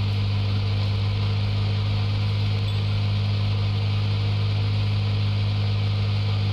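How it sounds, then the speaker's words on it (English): A loud car engine idles in Police Simulator: Patrol Officers, a steady deep droning hum with a constant rumble and no changes in pitch throughout. "You have a very loud engine, sir."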